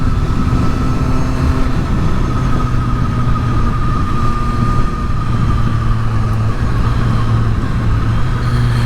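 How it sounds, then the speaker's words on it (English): A 765RS motorbike fitted with an Akrapovic exhaust rides along, giving a steady, loud, sustained engine drone with low rumble and wind, with no talking. "it's insane how good this bike is"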